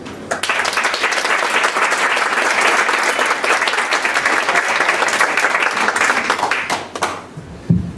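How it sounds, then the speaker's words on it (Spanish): Lecture audience at a cultural conference in Lima giving a speaker a warm welcome, loud dense clapping that swells quickly, holds steady for several seconds, then thins out to a few last claps. "a quienes pido una cordial bienvenida con aplausos"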